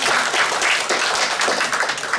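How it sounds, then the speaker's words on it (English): Applause at a mayoral and city council candidate forum in Jasper, a burst of many hands clapping in a dense, fairly loud patter lasting about two seconds with no talk over it. "And I'm gonna clap my hands, I think they're awesome."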